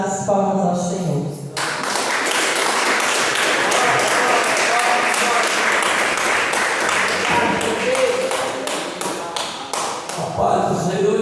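A church congregation at a healing and deliverance service claps for about ten seconds, a dense, steady round of applause that swells in and then tapers off at the end.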